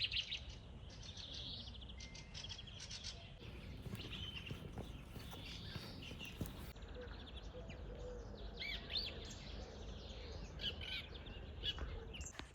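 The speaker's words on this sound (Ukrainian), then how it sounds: "Тут такий спокій, тиша і пташки." Faint birds chirp and tweet in short bursts against a quiet outdoor background at a sanatorium, with no one speaking.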